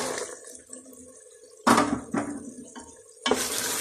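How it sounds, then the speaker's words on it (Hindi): Fresh peas going into minced meat fried in ghee, with several sharp clattering stirs and scrapes of a spoon against the pan over a low sizzle, close and quick, without any talk. "अब मैं मटर डालने लगी हूँ"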